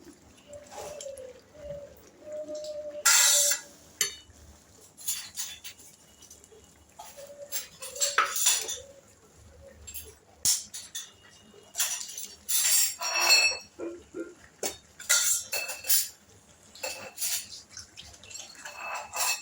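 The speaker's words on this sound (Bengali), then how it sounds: "ডিমটা আমি একটু ঘুটে দিয়ে দিচ্ছি।" Eggs whisked with a utensil in a bowl in a home kitchen, giving bursts of quick clinking and tapping strokes with short pauses, fairly close and alone.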